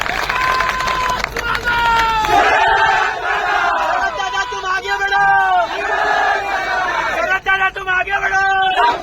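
A large crowd shouts and cheers at a political rally in Rajuri, loud and close, with a rising roar after a few seconds and voices calling out over the din.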